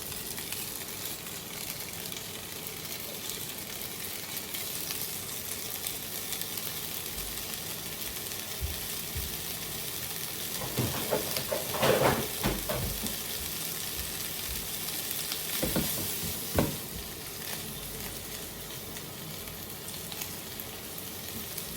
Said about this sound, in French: là je vais faire revenir les haricots